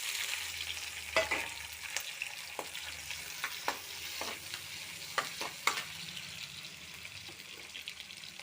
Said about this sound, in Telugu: ఇవి కొంచెం వేగనివ్వాలి.